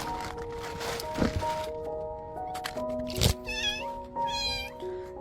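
A stray kitten trapped under trash gives a couple of thin, high, wavering meows near the end, amid close rustling and thumping handling noises.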